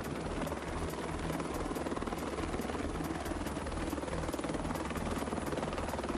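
A Protección Civil rescue helicopter flies over snowy Nuevo León. Its rotor chop is loud, steady and continuous throughout, with no one speaking.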